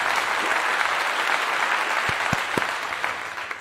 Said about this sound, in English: let me come back over here and get everybody a clap again